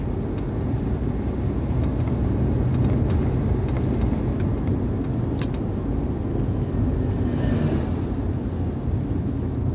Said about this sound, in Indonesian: Ini adalah bus NPM, luar biasa teman-teman drivernya.